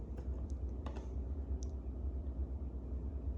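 Faint, scattered clicks of keys on a computer keyboard as a password is typed, a few quick taps over a low background hum with no speech.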